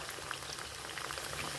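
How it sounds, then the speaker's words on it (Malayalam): Jackfruit chips bubbling in deep hot oil, a steady dense crackle and sizzle that continues evenly and close throughout without any pause. "ആ ചക്ക കുറേശ്ശെ ഇട്ടിട്ട് വറുത്തെടുക്കുക"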